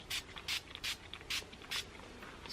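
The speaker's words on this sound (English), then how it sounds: "spray it all over my face because I am very matte right now" Five quick hissing spray bursts of makeup setting spray onto a face, evenly spaced and close, each a short sharp spritz with quiet pauses between.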